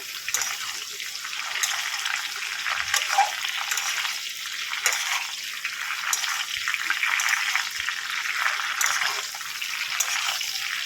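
Shrimp fry in a pan with black cumin, making an even, moderately quiet sizzling hiss with scattered faint pops and ticks throughout.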